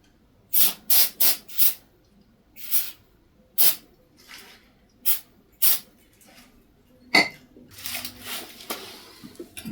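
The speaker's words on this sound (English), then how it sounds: "You spray the pins and it'll be a wonderful thing." A series of short hissing bursts of contact cleaner sprayed on the tube pins of a Fender Deluxe Reverb amp, some quick in succession and others spaced apart, fairly close and loud, with faint handling noises between.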